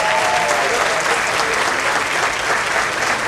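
Steady, dense applause from the audience at a municipal council swearing-in ceremony in San Pedro Sula, Honduras, filling the room at an even level throughout.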